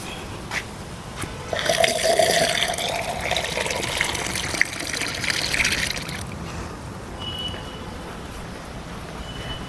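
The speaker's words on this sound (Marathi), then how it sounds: "आता पाणी घालून घेते" Water is poured onto young ridge gourd and pumpkin vines growing in a pot, a close, gushing splash that swells for a few seconds and then eases back to a faint trickle and quiet outdoor background.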